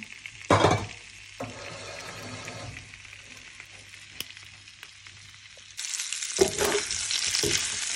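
Food fries in a pan with a constant hissing sizzle and occasional utensil clatter, close by, the sizzle swelling louder in the final seconds.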